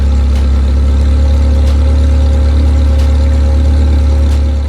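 A Ferrari 360 engine idles steadily nearby through its exhaust, a deep throbbing rumble with a loud, constant low drone and faint rhythmic exhaust pulses.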